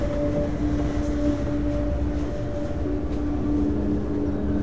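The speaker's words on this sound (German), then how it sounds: "Fährt da gerade ein Zug drüber? Das hört sich ja so an." Train rolling over a bridge in the video game Half-Life 2, heard as a steady, low, droning rumble with faint tonal hums that carries on evenly throughout.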